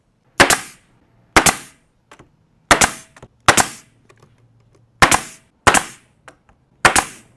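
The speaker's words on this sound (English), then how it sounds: "And then we will staple it in place." A staple gun fires into a plywood chair frame, giving seven sharp, loud staple shots spaced unevenly with short pauses between them and no talk.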